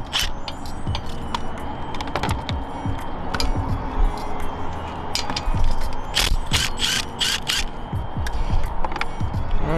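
Hand ratchet working on exhaust bolts of a 2019 Yamaha R3 behind the swing arm, a close, busy run of rapid clicking bursts over a dense clattering workshop background.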